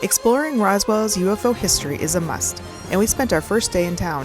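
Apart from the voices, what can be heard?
No distinct noise like a dog, phone or traffic.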